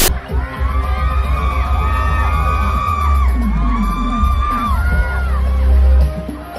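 Audience at a beauty pageant cheers, whoops and claps loudly and continuously, with a crowd roar throughout and music or amplified tones layered over it.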